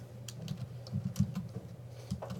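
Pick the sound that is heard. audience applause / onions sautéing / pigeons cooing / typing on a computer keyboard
typing on a computer keyboard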